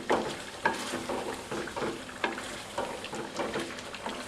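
Turmeric and white pepper powder frying for a chicken koila karahi, a soft steady sizzle broken by regular scraping strokes of a spoon through the pan, close but fairly quiet, with no voices.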